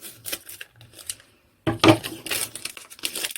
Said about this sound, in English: a crisp packet, if you just cut down the side carefully and cut the end off